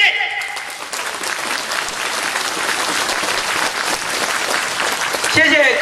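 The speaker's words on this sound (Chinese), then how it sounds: "掌声鼓励我的秘书长" Audience at a Taiwanese year-end gathering bursts into sustained, loud applause, dense clapping filling the room, with a voice emerging briefly at the very end.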